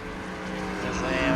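NASCAR Cup stock cars in the iRacing video game race with a steady, rising engine drone as they speed toward a turn, heard briefly under a commentator's voice.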